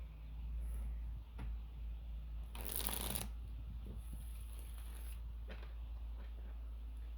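Tarot cards shuffled in a quiet indoor room, a soft papery riffle burst standing out clearly for about a second amid faint background hum, with a few lighter rustles and taps before and after.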